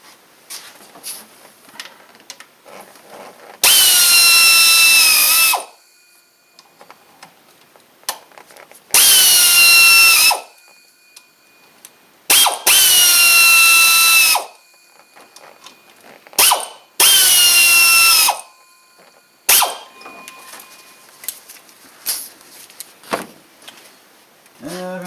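A power tool runs down bolts on the water pump of a 2006 GMC Envoy with the 4200 inline-six. It whirs and ratchets loudly and up close in four or five bursts of a few seconds each, with short pauses and clinks between them.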